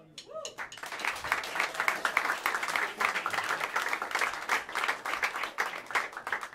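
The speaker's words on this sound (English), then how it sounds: "Please bring your hands together and give a warm round of applause" Warm applause from the audience at Smalls jazz club for the upright bassist, starting after a brief sound and building into steady, close clapping that continues to the end.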